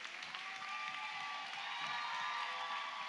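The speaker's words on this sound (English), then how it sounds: "Ricky and Alex, ladies and gentlemen, big round of applause" A crowd at a live show gives a steady, dense round of clapping that holds at the same level throughout, with a faint hint of cheering mixed in.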